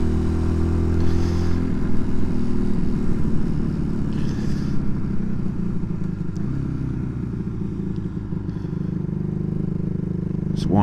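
A Honda CD200 motorcycle engine runs close and loud, its thick steady drone swelling as it is revved up.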